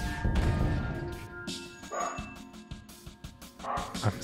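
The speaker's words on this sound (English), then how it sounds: "I hate my neighbor's dog." A neighbor's dog barking in short bursts, somewhat distant and intermittent over a low steady hum, with a few sharper yips near the start and end.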